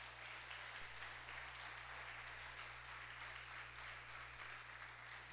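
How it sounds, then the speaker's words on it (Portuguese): A church congregation claps steadily for God during a Portuguese-language worship service, a dense, even wash of applause that holds the whole time under a low electrical hum. "Dá uma salva de palmas aí para Deus Todo-Poderoso."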